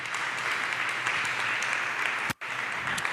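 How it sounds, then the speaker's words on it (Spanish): A church congregation applauds in a sustained, dense wash of clapping that briefly cuts out near the end before resuming. "Denle un aplauso ahí al Señor."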